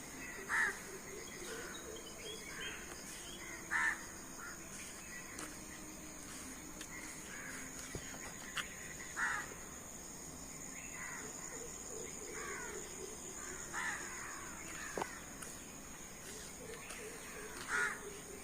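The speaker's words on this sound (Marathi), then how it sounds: "बारीक बारीक चिमण्यांचा आवाज पण येतो कावडे तर आहेत" Crows caw repeatedly in short bursts at a distance, over a steady hiss of background noise with faint small-bird chirps.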